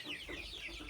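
Young pullets cheep and cluck in soft, wavering calls, several birds together, close by and brief, in Ghana.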